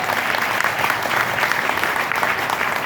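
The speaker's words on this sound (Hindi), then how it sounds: "एक बार जोरदार ताली जिन्होंने सोच बताया।" An indoor audience claps in sustained, dense applause at moderate loudness, steady throughout the short burst.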